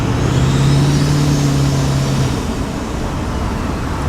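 A Duramax diesel truck on the road gives a loud, close rumble of driving noise, and a tonal turbo whine holds steady before fading out partway through.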